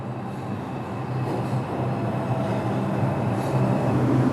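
A New York subway train rumbles through a tunnel, a steady low roar that builds slightly over several seconds with faint metallic rail noise and no voices.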